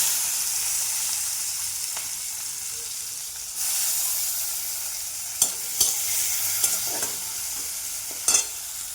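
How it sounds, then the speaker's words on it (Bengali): Onions frying in a pan with a dried chilli and five-spice seeds, a steady loud sizzle broken by several sharp scrapes and clanks of a spoon stirring against the metal. "এবার পেঁয়াজ দিয়ে দিলাম।"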